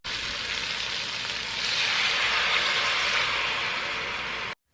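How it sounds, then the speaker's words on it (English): Red and green peppers and other vegetables sauté in a hot pan for a curry, giving a steady, loud, close hiss and sizzle that swells slightly midway, with no talking. "Just gonna go ahead, saute all my veggies"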